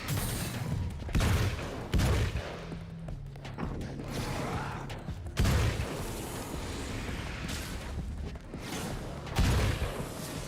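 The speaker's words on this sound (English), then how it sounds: "Dude, I can shoot so quick." Rapid gunfire from the video game Alan Wake's American Nightmare: several heavy booming shots in quick bursts, loud and close, over a steady low game rumble.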